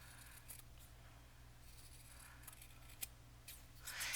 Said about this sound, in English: these were my sewing scissors, but they don't cut great for quilting anymore